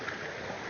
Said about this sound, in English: So this water is constantly flowing downstream, coming from this water source.